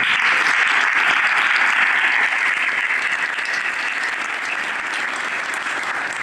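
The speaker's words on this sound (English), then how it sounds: "I want you all to join me in giving them a giant, giant round of applause" An audience at the Evanston, 2022 state of the city address gives city staff a big round of applause, dense and loud clapping that carries on without a break and tapers only slightly.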